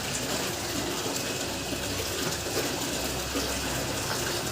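Water pours steadily into a container, filling it, a continuous close gushing rush with no clear change over several seconds and no voices.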